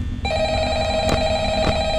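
An electronic telephone rings in the video game Five Nights at Freddy's, a loud, steady tonal ring with a slight pulsing, heard alone and close.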